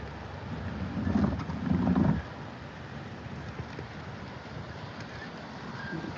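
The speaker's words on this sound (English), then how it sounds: "Here comes the gust, starting to rock the pickup a little bit." Wind roars and buffets against a pickup truck, rocking it, with a couple of stronger gusts early on, then settles into a steady blustery rush during the early stages of a derecho in Iowa.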